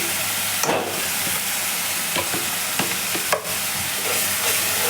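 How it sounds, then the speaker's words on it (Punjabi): Onion masala roasting in a kadhai over a high gas flame for a lauki and chana dal dish, a loud, steady sizzle broken by several scraping stirs of the spoon. "ਹੁਣ ਆਪਾਂ ਨੇ ਗੈਸ ਵੱਧ ਕਰ ਦਿੱਤਾ ਹੈ ਔਰ ਵੱਧ ਸੇਕ ਦੇ ਉੱਤੇ ਆਪਾਂ ਇਹਨੂੰ ਭੁੰਨਾਂਗੇ"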